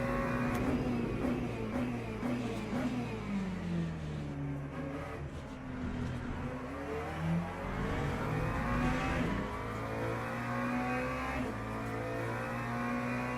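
Race cars in the Le Mans Ultimate video game, among them an LMP3 prototype, drone continuously with engine notes climbing and dropping through shifts and other cars passing, a steady moderate roar with no voices.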